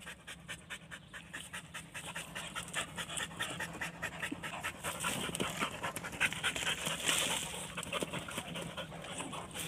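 Hunting dog panting hard while digging out a rat from its burrow, quick rhythmic breaths close by with scraping and scuffling, faint whimpers creeping in as the effort builds.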